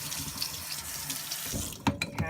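Cold water is sprayed onto freshly made Polish uszka dumplings, giving a soft, close hissing spray that ends in a couple of short, sharper bursts.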